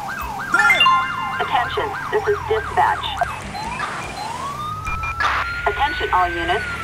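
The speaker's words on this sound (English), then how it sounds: "I got a new siren, so." A fast yelping police car siren in GTA V with the LSPDFR mod on a Caprice patrol car, loud and close, then switching to a slower rising wail, with a radio voice talking over part of it.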